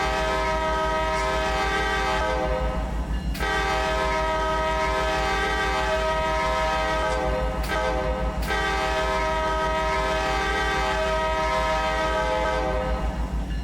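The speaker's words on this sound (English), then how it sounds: "That's how you're going to blow the horn, right?" A freight locomotive horn in the Run 8 train simulator game blows long sustained chords, broken by two brief gaps, over a steady low rumble of the rolling train.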